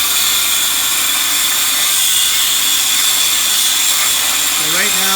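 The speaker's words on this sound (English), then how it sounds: "grinding the top off the rivets" An angle grinder cuts the heads off steel rivets on a Chevrolet S10 pickup chassis during a frame upgrade, a loud steady abrasive whine that runs without a break through the whole stretch.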